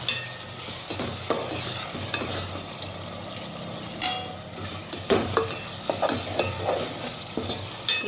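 Turmeric and coriander powder fry in hot oil in a pan for fish curry. The sizzling is continuous, and a spatula scrapes and stirs at intervals.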